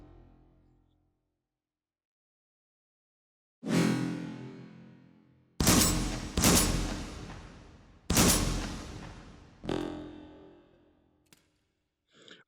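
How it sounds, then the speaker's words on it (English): Shotgun firing on a range in the H3VR virtual reality game: five booming blasts with long decaying tails, spaced irregularly after a quiet start, loud and close with no talking. "I find for the shotgun ranges especially, you want to keep track in your head of how many shots are in the tube."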